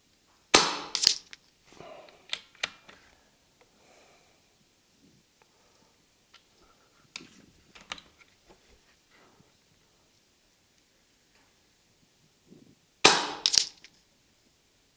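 Brocock Bantam Sniper HR air rifle firing at a 75-yard range: sharp isolated cracks separated by long quiet gaps, with faint clicks and handling noises between shots.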